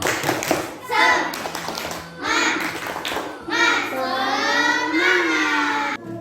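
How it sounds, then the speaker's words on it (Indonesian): Children in an Indonesian primary classroom perform a rhythmic 'tepuk semangat' clapping chant. Bursts of claps alternate with chanted voices in a patterned, energetic sequence, close and loud. "Biar lebih semangat lagi, kita tepuk semangat dulu."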